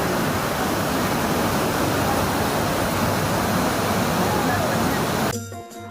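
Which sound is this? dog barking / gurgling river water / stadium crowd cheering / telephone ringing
gurgling river water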